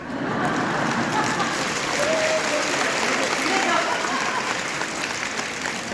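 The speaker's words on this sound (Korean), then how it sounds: "이 앞에 있는 분만 박수 치는 거 아세요?" A seminar audience claps together in a steady, dense wash of applause that fills the room and holds evenly throughout, with a voice faintly present underneath.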